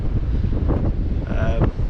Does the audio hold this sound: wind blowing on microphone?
yes